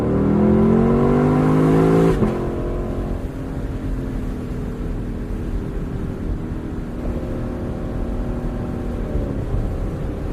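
A Lexus car with a 10-speed transmission revs its engine hard toward the rev limiter, a loud climbing roar that cuts off sharply, then settles into a steady, lower engine drone.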